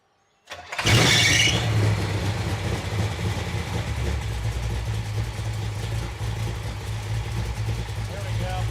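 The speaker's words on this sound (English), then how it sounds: "you just need to let it idle, Paul" Car engine on a dyno fires up with a sharp burst, then settles into a steady, close idle that runs throughout, with people talking over it.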